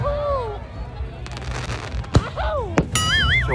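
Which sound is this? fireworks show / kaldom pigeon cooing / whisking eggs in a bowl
fireworks show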